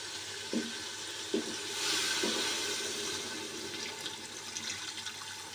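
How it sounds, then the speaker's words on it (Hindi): Water poured into a pot of goat's head being cooked, a gushing splash that swells after a few light clinks, then settles into a steady trickling rush. "अब हम इसमें पानी डालेंगे।"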